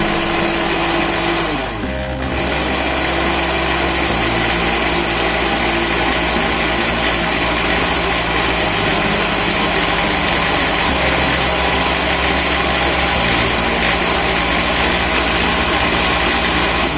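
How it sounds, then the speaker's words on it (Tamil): A mixer grinder blends curd together with its layer of cream in the jar, giving a loud, steady motor whir that runs without a break. Its tone shifts briefly near the start. "மிக்ஸி ஜாரோட 1/4 பகுதி வரைக்கும் மட்டுமே முதல்ல தயிர் சேர்த்து, அதாவது தயிர் ஆடையும் சேர்த்து நல்லா அரைச்சி எடுத்துக்கலாம்"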